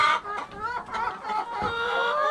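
Free-ranging laying hens on a large farm cluck loudly and continuously nearby, several birds overlapping in a busy, chattering flock sound.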